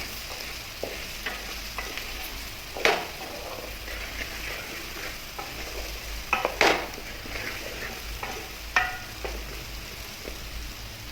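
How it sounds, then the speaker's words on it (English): A spoon stirs pumpkin curry seasoned with red chili powder in a pan over a steady sizzle, with a few louder scrapes and clinks against the pan and no talking. "Stir well to combine and cook for another couple of minutes."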